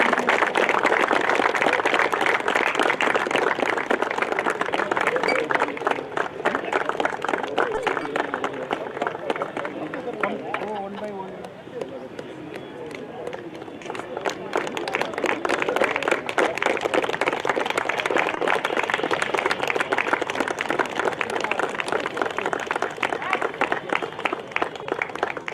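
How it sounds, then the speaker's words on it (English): Crowd at a Santosh Trophy football match between Goa and Karnataka giving referees a round of applause, steady dense clapping with a dip in the middle and a swell again, heard alone. "A big applause for the referees."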